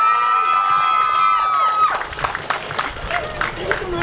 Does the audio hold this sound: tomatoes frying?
no